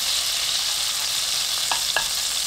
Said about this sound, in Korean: 팬에 버터 25g 넣고 녹입니다.